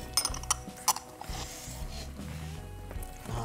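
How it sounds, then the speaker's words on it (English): A spatula chops scrambled egg into cauliflower fried rice in a pan, with several sharp metallic clinks early on, then softer scraping under a low steady hum. "now we're just going to chop up the egg on there as well"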